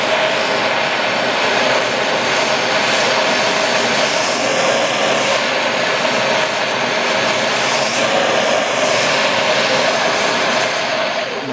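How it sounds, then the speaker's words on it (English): A welding torch turned up high roars steadily while heating aluminum pieces for a tee joint weld, a loud, continuous rushing flame noise with no pauses and no talking. "I'll light my torch. I'm going to turn this up to kind of heat up this so it's kind of noisy."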